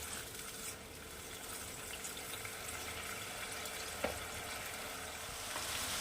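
Potatoes and spices sizzle and fry in a pan with a splash of water added, a steady close hiss running throughout with one brief clatter near the end.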